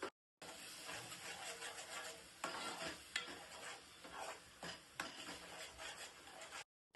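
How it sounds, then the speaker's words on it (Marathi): Ground masala is stirred and roasted in hot oil in a pan, a close scraping and shuffling with a soft sizzle underneath and a few sharper strokes of the spoon. "त्याच्यानंतर आपण मसाला घालणार आहे वाटलेला, तो छान तेलावरती असा भाजून घ्यायचा."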